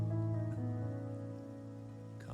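Steady rain falls in the video game Wuthering Waves, a dense continuous patter under a droning tonal music bed, no voices present.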